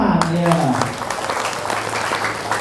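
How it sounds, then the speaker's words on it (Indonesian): An audience at a training event for hospitality workers breaks into applause, a dense wash of clapping that follows a brief voice at the start and carries on steadily to the end. "silakan tepuk tangan"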